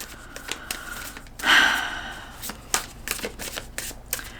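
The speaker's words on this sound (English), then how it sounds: "so we're gonna keep pulling cards" Tarot cards are shuffled and drawn at close range, with a quick riffling burst in the middle and scattered soft card clicks and slides around it.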